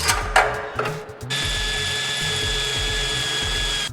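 A power drill whirs continuously at high speed after a few short bursts, with some clattering at the start, drilling holes for M6 tapping.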